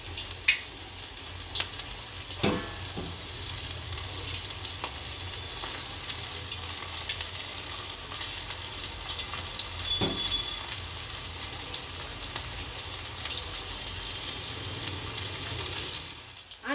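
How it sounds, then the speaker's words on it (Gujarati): Chili fritters (bhajiya) made from chili strips frying in hot oil, a steady close sizzle and crackle running throughout, with occasional soft clicks and scrapes of a utensil in the pan. "એક બાજુ તળાઈ ગયા એટલે હળવું દઈને ફેરવશું અને બીજી બાજુ તળ નાખશું"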